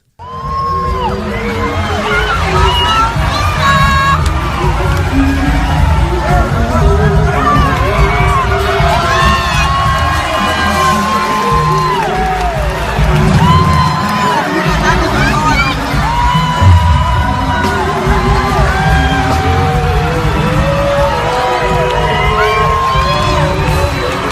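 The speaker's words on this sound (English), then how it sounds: "people are applauding her" A large crowd in a played video cheers, shouts and applauds continuously and loudly, a dense hubbub of voices and claps with no pause.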